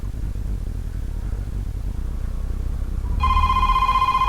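An incoming internet call sets a phone ringing, its tone starting abruptly after a few seconds of low hum and continuing loud and steady to the end.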